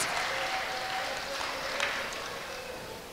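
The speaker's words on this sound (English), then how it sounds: "Can we all give a round of applause to our volunteers?" A church congregation applauds its volunteers, producing a soft, even wash of clapping at moderate distance that holds steady throughout, with faint murmuring beneath.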